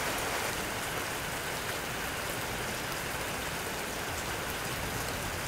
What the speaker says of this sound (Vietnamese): Hôm nay thời tiết trời nó có mưa, tiếng nó hơi ồn một chút các bạn ạ